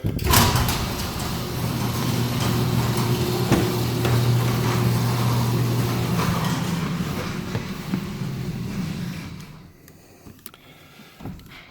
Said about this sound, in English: Let's start up the old engine. Give her a rev.